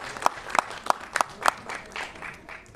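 An audience at an Urdu mushaira poetry event claps, with a handful of distinct loud claps followed by a softer, scattered patter of applause from the crowd.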